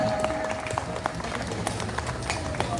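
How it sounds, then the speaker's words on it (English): An audience applauds at an inauguration event in Khumulwng, Tripura, with steady, dense clapping throughout that is moderately loud and sustained, and voices mixed in. "Let's give a big round of applause."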